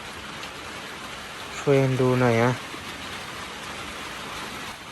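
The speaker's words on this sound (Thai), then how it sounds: "ตอนนี้ฝนตกหนักแล้วนะ" Heavy rain pours down as a constant broadband hiss throughout, with a short spoken phrase rising briefly over it midway.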